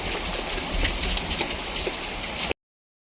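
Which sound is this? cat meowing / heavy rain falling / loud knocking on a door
heavy rain falling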